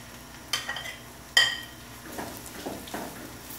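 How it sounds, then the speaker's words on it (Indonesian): Tempeh frying in oil in a hot wok gives a soft, steady sizzle, punctuated by a few sharp metallic clinks and scrapes of a utensil against the pan, close up with no talking. "Aku goreng tempenya dulu."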